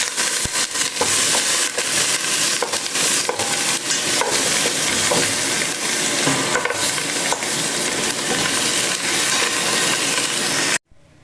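Beef and beef bones frying in a pot for a seed sauce, a loud close sizzle with repeated stirring scrapes and clinks, ending abruptly, no voices.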